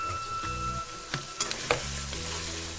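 Whole cumin seeds crackle and sizzle in hot oil, with a close, soft frying hiss and a few sharp pops and clinks from stirring.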